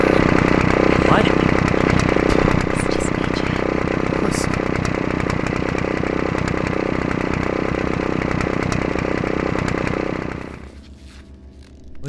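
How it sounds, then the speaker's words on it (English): A loud, roaring engine in the video game Autopsy Simulator, a harsh buzzing drone like a chainsaw or motorcycle. It holds steady and close for about ten seconds, then cuts off abruptly into near silence. "the engine was so loud I couldn't hear"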